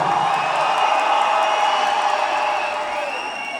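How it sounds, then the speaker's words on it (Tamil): A crowd at a live concert in Paris whistles and cheers, a sustained loud roar of voices and high whistles that tapers slightly toward the end. "குத்து பாட்டுக்கெல்லாம் விசில் அடிச்சு ஆரவாரம் பண்றீங்க"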